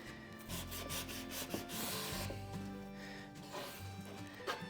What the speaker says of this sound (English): Take your sanding sponge, just very lightly.